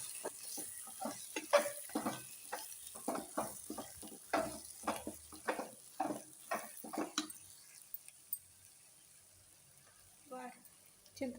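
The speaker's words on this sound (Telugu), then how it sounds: "సిమ్లో పెట్టి బాగా వేయించుకోవాలండి" Masala spices are stirred and fried in a pot over a low flame, with a steady run of scraping spoon strokes and a soft sizzle that thin out toward the end, while a voice talks alongside.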